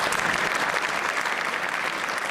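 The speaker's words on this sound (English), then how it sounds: "Please, polite round of applause." An audience at a public forum gives a polite round of applause, steady and dense clapping that holds at an even level throughout.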